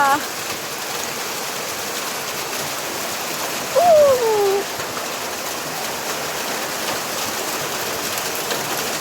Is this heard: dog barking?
no